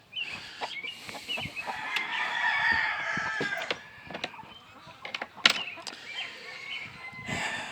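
Chickens in brood pens, hens and cockerels, make a continuous mix of clucks, squawks and calls at moderate distance, broken by sharp knocks and rustling throughout.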